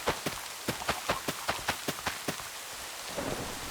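Rain falls in a Minecraft world as a steady hiss, with a run of sharp rhythmic taps close by.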